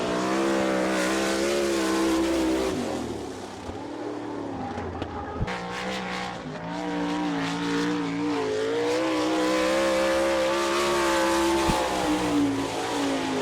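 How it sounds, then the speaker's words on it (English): A Maxim-chassis sprint car, number 21, on a solo qualifying lap at Attica, Ohio, its engine roaring loud and steady with rising and falling pitch through the corners, then fading slightly as it heads down the straight. "John Haney qualifying right now in car number 21 from Brownsville, Wisconsin"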